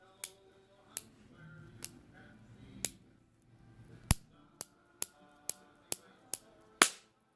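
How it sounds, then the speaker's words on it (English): Small toy cap gun firing poppers: a series of about eleven sharp, loud snaps, spaced irregularly at first and then coming quicker, each one a crisp isolated crack against a quiet room. "So I've got this little cap gun."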